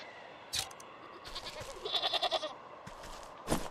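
A shaggy goat-like creature bleats in the fantasy video game Wytchwood. It gives a short run of several quick, quavering bleats over a faint background with scattered soft clicks, and no voices.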